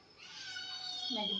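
A pet house cat indoors at night gives a single drawn-out meow that rises and then bends at the end, close and fairly quiet.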